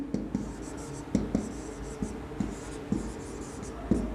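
A pen scratches across paper in short strokes and taps at a steady, unhurried rhythm, close and moderately loud, during a maths lesson on comparing quantities, with no talk over it.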